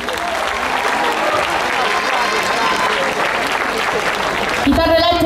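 Audience applause at a 2014 pop concert at Porta di Roma, a steady dense wash of clapping from a large crowd lasting throughout, with a brief musical tone entering near the end.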